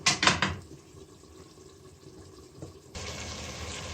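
Cooked chicken poured into a strainer, a brief splashing rush of draining water at the start, then quiet kitchen background and a second steady trickle of running water toward the end, no talking.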